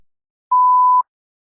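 A single clean electronic beep, about half a second long, sounds alone between stretches of silence to cue the start of preparation time in a TOEFL speaking practice test.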